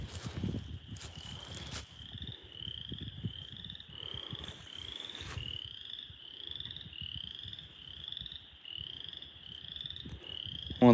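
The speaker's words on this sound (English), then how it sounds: "I'm glad to hear those tree frogs again." Tree frogs croak at night in the woods, a steady series of short rising chirps repeating roughly every half second at moderate distance, over rustling and brief bursts of broadband noise.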